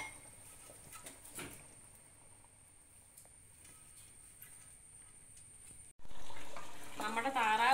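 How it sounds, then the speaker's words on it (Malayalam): Duck curry simmers in a pot on the stove. A low, quiet background gives way in the last two seconds to loud, steady bubbling and sizzling. "നമ്മുടെ താറാവ് കൂട്ടൻ ഇങ്ങനെ തിളച്ചുകൊണ്ടിരിക്കുന്നു."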